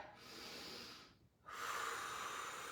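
Deep, forceful breaths near the microphone at the end of a leg workout, a long hissing exhale, a brief pause, then a strong rushing inhale, loud and alone.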